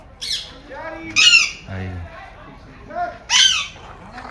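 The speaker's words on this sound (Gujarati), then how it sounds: "એમાં અત્યારે પોપટ પૂરેલા છે જો અંદર" Harsh squawks from parrots in an aviary at Indroda Park burst out in several loud calls separated by pauses, with other bird chatter and faint background voices around them.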